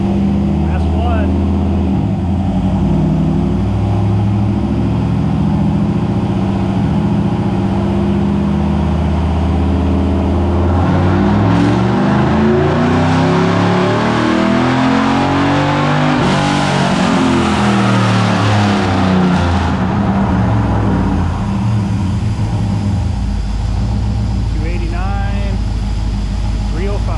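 A home-built 383 engine running on a dyno roars loud and close for the whole stretch, its pitch sweeping up and down as it revs and then settling, with voices talking over it.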